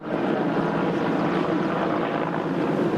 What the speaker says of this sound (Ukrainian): Гелікоптери набирали воду із найближчих водойм та раз по раз поверталися до вогнищ.